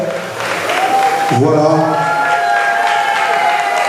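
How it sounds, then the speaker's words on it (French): Applause and crowd noise from a gala audience in Angers, steady and fairly loud, mixed with sustained musical tones and a brief spoken word at the start. "accompagnez avec une salve d'applaudissements"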